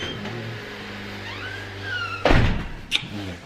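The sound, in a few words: door being opened in freezing cold weather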